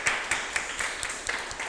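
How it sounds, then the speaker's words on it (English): Audience applause at a political lecture, a short burst of scattered claps with irregular sharp peaks, moderately close and fading little over under two seconds. "Just one more round of applause for that amazing study."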